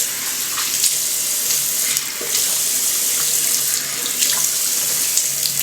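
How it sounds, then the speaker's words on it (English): Tap water runs steadily into a sink as someone rinses their face after using a cleansing balm, a continuous close splashing rush with small surges, no voices. "I'm going to run water over my face."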